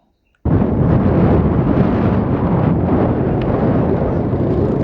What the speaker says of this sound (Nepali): हावाको बेग भने उत्तिकै चलिरहेको छ, धन्नै उडाउला जस्तो पनि छ